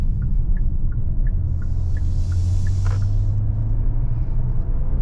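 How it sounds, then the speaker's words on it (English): 2023 Hyundai Palisade SUV floored from inside the cabin, a steady low engine drone and road rumble building under full throttle, with faint repeated ticks of a turn signal. "this is flooring the SUV now"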